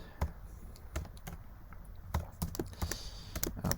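Clicks of a computer keyboard during Python coding, irregular quick taps in short bursts, close and fairly quiet with no talk over them.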